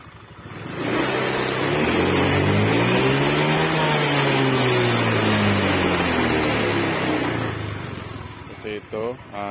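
A Honda Vario scooter with a suspected faulty TPS sensor starts and runs, its engine rising and falling in a steady rev that loses power at high RPM, loud and close for several seconds, then cuts to talking.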